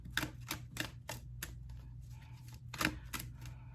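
Tarot cards snap and slap in a series of sharp, close clicks as they are shuffled, quick at first, then a pause, then a few more riffles.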